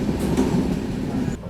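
A train sits at Akola Junction railway station during a locomotive reversal, with a steady low rumble and rolling noise, close and loud, and no talk.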